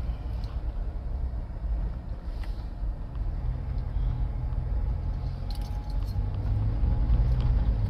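Toyota Fortuner 2010 SUV in four-wheel drive, its engine a steady low rumble close by with a faint jingle of keys, the drone swelling slightly toward the end.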